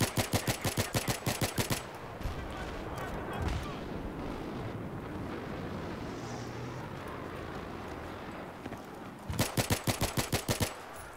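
Rapid bursts of automatic gunfire from Battlefield 3, a fast even rattle at the start and again near the end, with a low rumbling battlefield din between the bursts and no clear talk.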